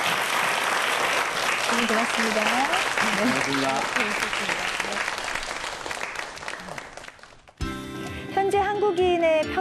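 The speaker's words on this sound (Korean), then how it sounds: "여러분 큰 박수 한번 부탁드리겠습니다" Audience applause at a televised science lecture on microbes, steady crowd clapping for over seven seconds with someone speaking over it, then giving way to music.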